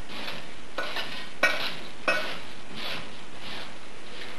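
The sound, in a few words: stirring dried cherries into cookie dough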